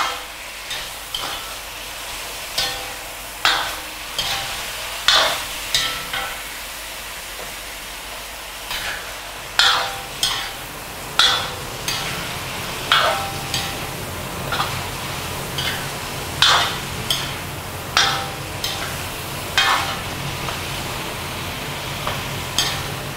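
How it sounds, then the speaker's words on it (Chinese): Chicken and mushrooms stir-fried in a wok: repeated scraping clanks of a spatula against the metal come in an uneven rhythm over a constant low sizzle, close and fairly loud, with no talking. "继续翻炒"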